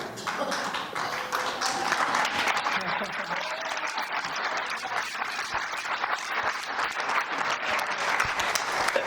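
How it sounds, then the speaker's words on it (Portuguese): An audience at a worship service claps along in rhythm with the band, a dense steady patter of many hands filling the space throughout, with voices mixed in beneath. "e batam palmas, por favor venham"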